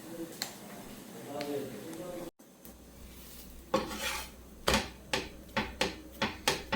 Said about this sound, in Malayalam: തിരിച്ചും മറിച്ചിട്ട് ഫ്രൈ ചെയ്തെടുത്തു.